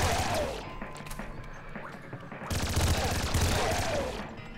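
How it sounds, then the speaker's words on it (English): Laser minigun fire in the Nuclear Throne video game comes as rapid, dense bursts of zapping shots. The volley stutters and then swells again, loud throughout and overlaid with other game effects. "Double fucking laser miniguns."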